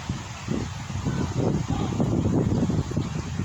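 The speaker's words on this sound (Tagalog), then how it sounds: "Ay, sarap ng hangin." Steady low wind rushing and buffeting against a microphone outdoors at a seaside resort lot, continuous and fairly loud throughout with gusty fluctuations.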